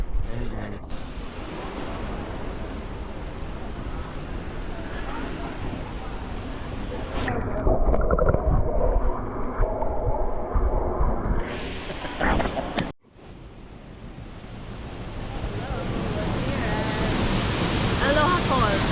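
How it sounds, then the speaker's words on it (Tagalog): Aloha Falls sends out a broad, steady rush of falling water outdoors on a hike. It sounds loud and close with wind buffeting the microphone, and voices talk over the roar at times. "Aloha Falls."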